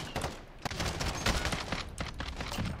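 Gunshots from a sniper rifle setup in the Modern Warfare game, loud repeated cracks with reverberant tails amid dense in-game noise, no one talking.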